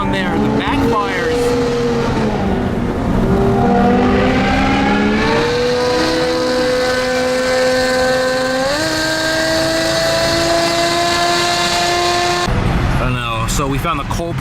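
A car with a loud aftermarket exhaust burbles and drones, its pitch rising and holding as the engine revs. Sharp crackling backfires burst out near the end, all loud and close.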